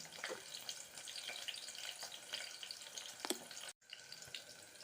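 Sambar onions (shallots) sauté in a pan with a faint, steady sizzling hiss and a few soft scrapes, cutting out briefly near the end.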